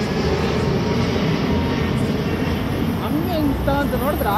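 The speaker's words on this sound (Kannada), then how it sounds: "Flight view. ಟೋಟಲ್ ಇವತ್ತು ನಾನು 3 ಫ್ಲೈಟ್ ನೋಡಿದೆ." An airplane passes overhead with a sustained, loud roar that fills the whole stretch, while people talk beneath it toward the end.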